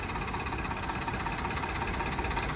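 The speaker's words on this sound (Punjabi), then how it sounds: "ਲੋ ਜੀ ਚੱਲਿਆ ਬਾਈ ਟਰੈਕਟਰ" A Swaraj 969 tractor's engine drones steadily and loudly at idle, a low rumbling hum with constant vibration and no break.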